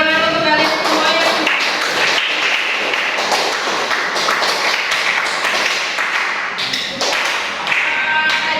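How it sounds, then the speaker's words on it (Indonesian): Classroom applause for a group of students: a dense patter of many hands clapping steadily for several seconds, loud and close, with a brief dip near the end. "Tepuk tangan untuk kalian semua"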